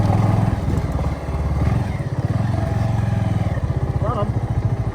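A motorbike engine idles and putters nearby with a steady chugging pulse while the rider parks it at a natural hot spring hotel in Kharpani, Pokhara, Nepal, with people talking over the engine.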